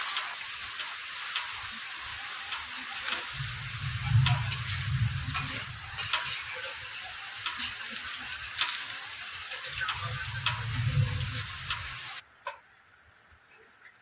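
Salt-and-turmeric marinated prawns hit hot oil in a pan, a steady close crackling sizzle with louder bursts of spattering that runs for several seconds before cutting off abruptly.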